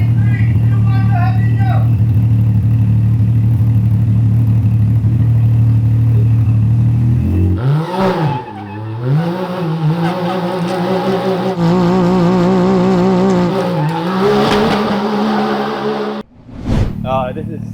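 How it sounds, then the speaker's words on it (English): Car engine revving hard for a flaming burnout in a parking lot, a steady drone that breaks into rising and falling revs with clatter, loud and close, ending in a brief drop. "It should be a flaming burnout."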